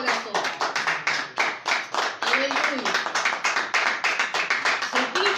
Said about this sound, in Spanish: dale un aplauso al Señor con todo tu corazón